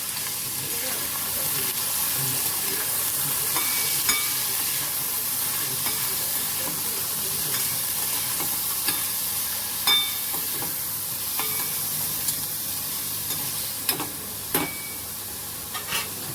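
Paneer sautéing with ginger in peanut ghee for a fasting-style khichdi, a soft steady sizzle and hiss in the pan with occasional light clicks of a spoon stirring.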